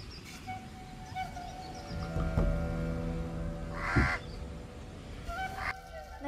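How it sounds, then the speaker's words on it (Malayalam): Crows and other birds call around the Kuttanad backwaters in Kerala during a boat ride, with repeated caws over a steady low boat hum and a few honk-like calls. "കുറെ കിളികളും നല്ല കാറ്റും."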